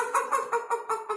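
A voice imitates a hen cackling after laying an egg: about six loud, evenly spaced squawking bursts delivered close up in a quick rhythmic series.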